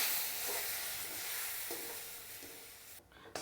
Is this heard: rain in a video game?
no